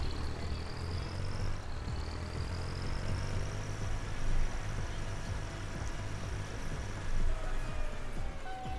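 Simulated engine of a Fendt Favorit 4 round-hood tractor in Farming Simulator 19, a steady low drone with tonal whines that rise and step as it shifts up through the gears, with slight surges in loudness.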